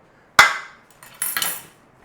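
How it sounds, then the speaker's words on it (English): A spoon stirs roasting potatoes in a metal pan, with one sharp clank against the pan followed by a couple of short, close scraping sweeps. "Stir up those potatoes and chuck those back in."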